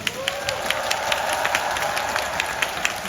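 An audience at a DAY6 fan meeting applauds steadily, a dense wash of many hands clapping with sharper individual claps standing out.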